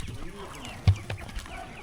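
Native country chickens at a farm cluck close by in short, busy calls, one louder squawk in the middle, with farmyard noise around them.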